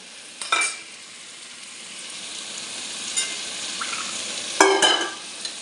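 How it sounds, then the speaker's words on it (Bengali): Ground cumin, coriander powder and Kashmiri chilli powder sizzle in hot oil in a pan for a country chicken curry, with a steady frying hiss and a few sharp scraping stirs, the loudest near the end. "এবার কষাতে থাকবো মশলা"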